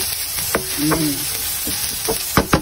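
Garlic sautéing in a pan for Filipino mung bean stew hisses steadily up close, with sharp spatula scrapes and clinks against the metal and a brief tonal squeak near the start.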